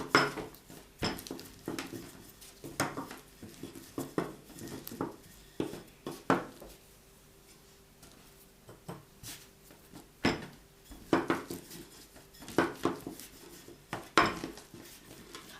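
A wooden stick rolls and flattens spring onion pancake dough on a floured plate, giving scattered knocks and soft clattering thuds in an irregular rhythm, close by and fairly quiet.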